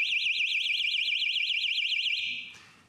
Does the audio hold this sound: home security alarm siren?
yes